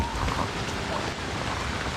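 Heavy rain pours on the MacRitchie Treetop Walk in Singapore, a dense, even wash of hissing drops that stays constant and close throughout.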